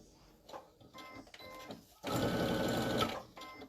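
A sewing machine stitches across a fabric seam to box the corner of a hanging storage pod, with short quiet bursts followed by a louder, steady run of stitching for about a second near the end.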